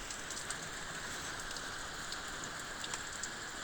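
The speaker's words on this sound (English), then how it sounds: "And then it started raining." Steady rain pours down outside, a dense even hiss of drops spattering on surfaces with no breaks across the few seconds, close and moderately loud, with no voices.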